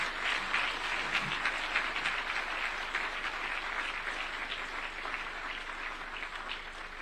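A large church audience gives a sustained round of applause after a sermon in Kenya, dense and even for the full seven seconds with no talking over it.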